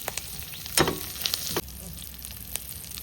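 Curry leaves and chilli sizzle and crackle in hot oil for a garlic pickle, with a sharp burst of frying about a second in, then a steady hiss and a few small pops.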